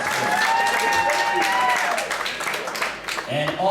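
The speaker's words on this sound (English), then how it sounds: "Round of applause for Alex Campanova, who is here as well." An audience at a boxing press conference applauds, steady clapping filling the room and slowly thinning, with a voice speaking over it.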